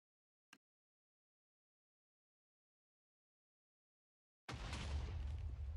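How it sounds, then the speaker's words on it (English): A TNT missile in a video game hits the ground and detonates, with a brief faint pop, a long silence, and then a sudden loud sustained rumbling blast that continues to the end. "It's going to hit the ground. It's going to detonate properly, but it's not going to cause the explosion that we want."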